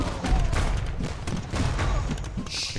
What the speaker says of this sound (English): Bombard cannons are actually helping him out a lot here.